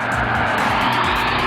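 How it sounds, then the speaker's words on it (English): An Audi RS Q3 engine roars loudly and steadily in a brief burst, a dense powerful blare of exhaust and engine noise with no pause. "you hear how loud the engine is"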